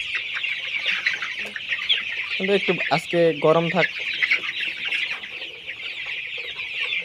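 Chickens at feeding time cluck and squawk nearby in a poultry shed, with a burst of louder calls midway over a steady background hum, while a person speaks briefly.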